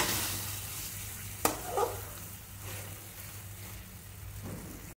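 Prawn curry frying in a pan with a soft, steady sizzle throughout, broken by a couple of brief clinks and scrapes from stirring; the cooking noise stays fairly quiet and close, with no talking.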